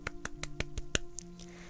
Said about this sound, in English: I'm doing a sideways clap.